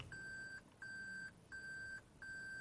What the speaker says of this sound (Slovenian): Piskanje.